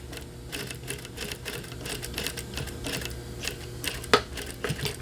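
A sewing machine runs steadily while stitching a curved fabric dart to take in a waist, a continuous mechanical whir with a rhythmic ticking pulse and one sharper click near the end.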